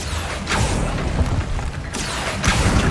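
Confringo blasting spell going off in Hogwarts Legacy, two broad booming bursts about a second and a half apart, loud and close over a steady low rumbling game ambience, no voices.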